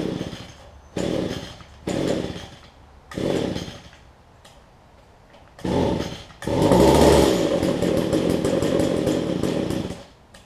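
An Echo HC1500 hedge trimmer's two-stroke engine is pulled and coughs in several short bursts, then catches and runs at a steady high-pitched buzz, loud and close.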